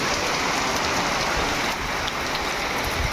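Heavy rain pours steadily in Rajkot, a dense, continuous hiss of drops striking surfaces with a thick low rumble beneath, loud and unbroken throughout with no voices.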